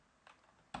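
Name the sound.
typing on computer keyboard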